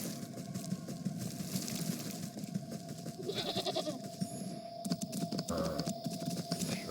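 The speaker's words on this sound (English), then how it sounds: "let's go to the goat and cut his hair" Goat bleating in protest as it is sheared in the game Wytchwood, faint bleats mixed with light clicking over a steady background hum.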